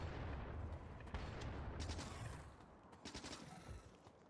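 SMG fire in Factorio, with rapid bursts of gunshots over a dense rumbling backdrop of explosions and battle noise, fairly loud and continuous, thinning toward the end.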